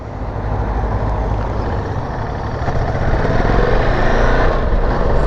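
Ducati Multistrada V2S motorcycle ridden in sport mode, its engine a steady close rumble that swells slightly as it pulls away, with no talk over it.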